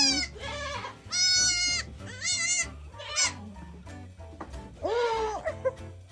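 A goat on a farm bleats several times up close, loud wavering cries with pauses between, while a small child and adults are nearby.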